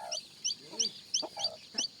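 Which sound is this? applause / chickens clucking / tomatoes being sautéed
chickens clucking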